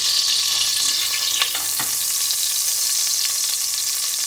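Mustard seeds and curry leaves sizzle steadily in hot oil, a bright close crackle with a couple of sharp pops, no talking.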